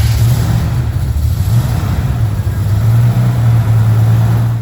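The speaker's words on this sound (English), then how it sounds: "The engine is mounted in the car and started." A BMW E31 850 CSi engine, freshly rebuilt and refitted, runs close by with a loud, steady low hum and a slight rise in revs partway through.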